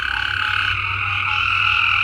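A garden chorus of frogs, including green chin frogs, croaks and trills continuously and loudly, layered calls overlapping close by without pause and with no voices.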